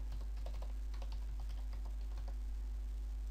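Fingers type a password on a computer keyboard, a short run of quick, light key clicks over a steady low electrical hum, close and fairly quiet.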